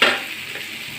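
Ginger garlic paste hits a hot pan and sizzles, starting with a bright burst of frying that quickly settles into a steady, softer hiss, close by and with no talking.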